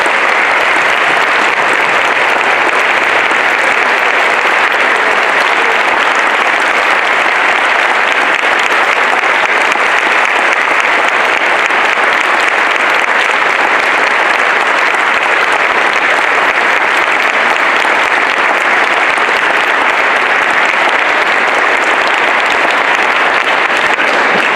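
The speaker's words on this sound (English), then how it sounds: "I'd ask them to please stand for a well-deserved round of applause" A large audience applauds veterans standing at a school Veterans Day ceremony, with loud, steady clapping filling the room for about twenty-five seconds without fading.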